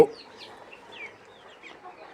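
Fayoumi chickens on a poultry farm, with soft, faint clucks and chirpy calls scattered across a short stretch in a quiet setting.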